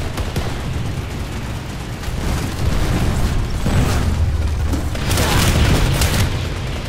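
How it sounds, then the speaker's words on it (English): A generator explosion in PlanetSide 2, heavy rumbling booms over dense battlefield noise with scattered gunfire, loud and sustained. "Generator destroyed."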